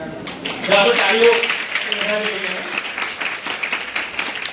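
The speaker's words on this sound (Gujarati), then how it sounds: "ચાલો તાળીઓ" Audience clapping at a primary school admission festival, a loud, sustained round of many hands with a voice speaking over it near the start.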